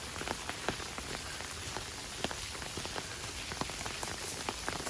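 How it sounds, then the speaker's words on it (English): Steady rain patters on surfaces during a spring walk in Oslo, Norway, a dense, even hiss with scattered nearby drips and no voices. "Walking under the rain is one of the best things"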